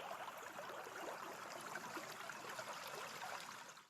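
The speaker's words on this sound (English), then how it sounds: "the sound of water running" Running water streams and trickles in a steady, dense rush that holds at an even level for about four seconds before tapering off at the end, with no voices.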